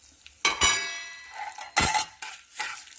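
Chana dal and spices dry roasting in a pan, with a stirring spoon scraping and rattling the lentils in bursts, a few louder clangs of utensil against pan, close and fairly quiet, no talk.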